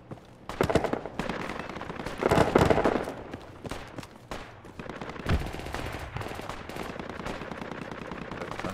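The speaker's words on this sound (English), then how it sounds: "They have roadblocks in all the entrances, but they're shooting from the window and the roof" Video game gunfire: rapid bursts and single shots from enemies firing from a window and roof, dense crackling volleys at middle distance with a couple of heavier blasts.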